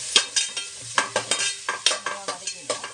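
Curry leaves crackle and spit in hot oil, a rapid series of sharp popping bursts in an uneven rhythm, close and fairly loud.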